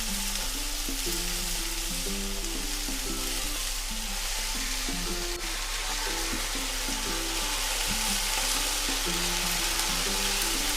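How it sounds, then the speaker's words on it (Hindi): Okra and roughly chopped onion fry in a pan with a steady, dense sizzle that runs unbroken throughout, loud and close, with no voices over it. "अच्छे से मिक्स कर देंगे और 1 मिनट तक इसको भिंडी के साथ भूनेंगे"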